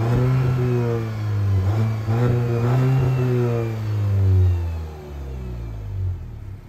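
A 2022 Mahindra Scorpio N petrol engine revs up steadily, its pitch rising and holding before easing off, loud and close with no talk.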